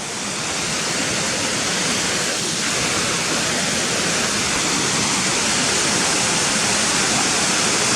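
A steady, broad rush of falling water from waterfalls at Swinner Gill fills the whole stretch, loud and constant with no other sounds standing out.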